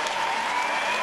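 Thin, scattered applause from spectators at a synchronized swimming World Cup in Brazil, a steady dense patter of clapping that stays moderately loud throughout with no voices over it.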